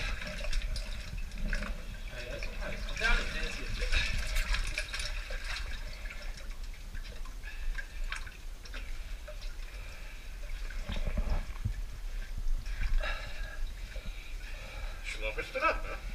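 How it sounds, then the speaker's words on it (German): Divers enter cold, clear water and submerge, with bubbling, gurgling and rushing water that continues through the scene while someone talks over it. "Nach dem Briefing zogen wir uns um und begaben uns ins Wasser und tauchten ab."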